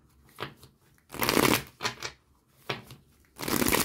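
Spanish playing cards are shuffled for a tarot-style reading: repeated riffling bursts, some long and dense, others short, close and crisp, with no voices over them.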